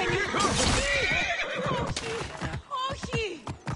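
A horse in Assassin's Creed Origins gives a loud close neigh and several shorter whinnies with hoof clip-clops, while a person talks over part of it.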